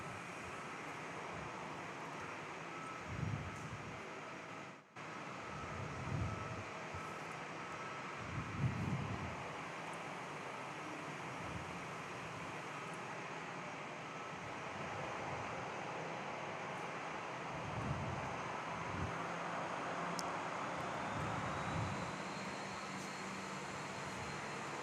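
A South African airliner taxiing at Perth Airport on a wet day: a steady, distant jet engine whine and rumble with wind noise that stays constant throughout.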